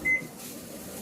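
A Samsung microwave oven gives a single short, clear electronic beep as the power is set, followed by quiet room tone.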